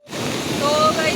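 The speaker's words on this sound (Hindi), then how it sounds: "भाई बारिश रुकने का नाम नहीं ले रही है" Heavy, record-breaking rain and rushing water in Sirmour, Himachal, roar as a dense, continuous wash of noise, close and loud, over a short stretch.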